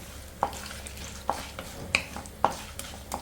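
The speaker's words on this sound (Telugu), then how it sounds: "సో ఈ పప్పులు ఇవి కొంచెం వేగిన తర్వాత పచ్చడి ఇందులోకి వేసేద్దాం" Lentils and curry leaves frying in hot oil, a low steady sizzle punctuated by four or five crisp spatula taps against the pan at roughly regular intervals.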